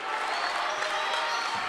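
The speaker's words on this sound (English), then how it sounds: "Crowd getting into it." Crowd at a Westfield vs Union Catholic high school basketball quarterfinal cheering and applauding, a steady wash of clapping and voices filling the gym throughout.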